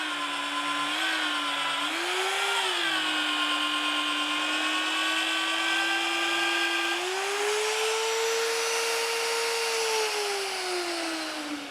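A Vevor 1400W magnetic drill runs at full speed cutting a hole, giving a loud, steady, high motor whine that dips and rises in pitch as the cutter loads and bogs slightly, continuous throughout without talking.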